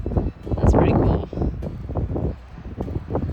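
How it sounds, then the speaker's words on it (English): Gusty wind buffets the microphone in uneven rumbling bursts, loud and close, with brief lulls between gusts. "Gosh, it's windy today."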